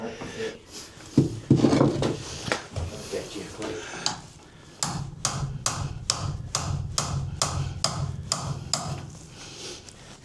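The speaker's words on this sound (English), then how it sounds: "I need a knocking stick. Where's that big knocking stick?" A knocking stick tapping a boat's rudder assembly during removal, a run of sharp, evenly spaced wooden knocks building in the second half, with someone talking and clunks before.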